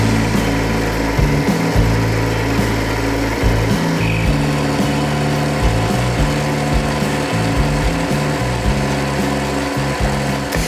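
A brass workpiece turns on a lathe at 1300 rpm during a crash test, a loud steady motor whine with a buzzing hum and uneven cutting chatter throughout, close and continuous.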